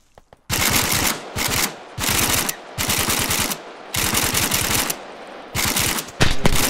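Heavy automatic gunfire from a team in the military video game ARMA 3, loud and close, coming in long sustained bursts of rapid shots separated by brief pauses.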